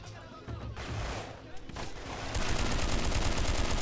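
Gunfire in the video game Delta Force: Black Hawk Down, with dense automatic bursts that grow louder and more continuous toward the end, heard under a voice speaking.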